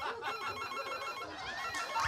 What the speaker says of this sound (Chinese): 的手机响了。